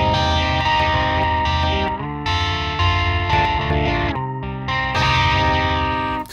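Heavily distorted electric guitar chords pass through the STL Tonality plugin's delay, the repeats smearing into a chorus-like, flanging shimmer, played loud in short bursts with brief breaks between.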